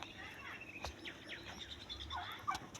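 Turkeys gobble and call faintly in a farm enclosure, a few short warbling bursts over low background hum, with quiet murmuring in the distance.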